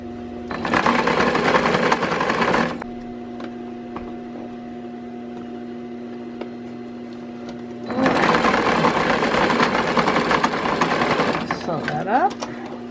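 A sewing machine stitches an old T-shirt into a chair cover, running in two loud, steady bursts of about two and three seconds. A quieter pause between them carries a constant electrical hum.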